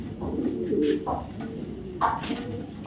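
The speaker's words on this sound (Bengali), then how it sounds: "কবুতর" Racing pigeons of a foreign bloodline coo in low, soft, rolling calls close by, while someone talks over them.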